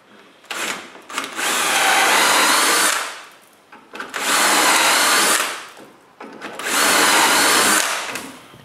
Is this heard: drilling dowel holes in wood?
yes